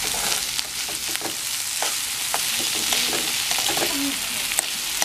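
Sliced onions frying in a pan for onion maida dosa, a steady close sizzle and crackle with a few soft stirring scrapes, continuous and fairly loud.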